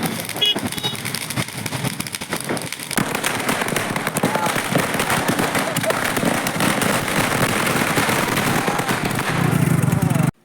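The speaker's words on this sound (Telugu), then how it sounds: "ఒక్కో ఇంటి దగ్గర కూడా డిఫరెంట్ టైప్ ఆఫ్ క్రాకర్స్ వెలిగిస్తున్నారు" Diwali firecrackers of different kinds going off near houses and shops on the streets of Amalapuram at night, a dense, continuous run of crackling bursts and pops with constant loud background noise and some voices.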